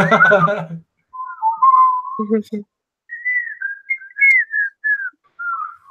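A person whistles a melodic tune from Disney's Robin Hood in several phrases with short pauses, clear and close, after a brief burst of voice at the start.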